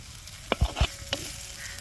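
Beef varattu is stirred in coconut oil with curry leaves, giving a few brief scraping strokes over a faint sizzle in a short, quiet moment.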